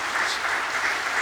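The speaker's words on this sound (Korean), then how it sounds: "박수 한번 해주시기 바랍니다" A church congregation gives a brief round of applause during a Sunday service, an even wash of clapping from many hands heard alone for a moment.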